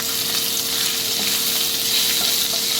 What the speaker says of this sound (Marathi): एका कढाईमध्ये थोडे तेल टाका यामध्ये मोहरी जिरे अद्रक लसूणची पेस्ट टाका